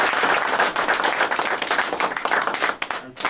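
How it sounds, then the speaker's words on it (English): A Toastmasters audience applauds at an officer installation ceremony, a dense, steady round of clapping from a room full of people, close and sustained, easing slightly near the end. "Toastmasters, let's put our hands together to give a warm round of applause to Francis"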